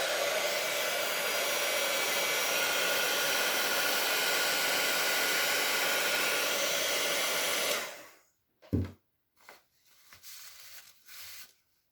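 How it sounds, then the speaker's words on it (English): An embossing heat tool blows steadily onto glitter crayon wax on a card, a loud continuous whoosh for about eight seconds before cutting off abruptly, followed by a few short handling knocks and rustles. "Let me try my heat tool a second."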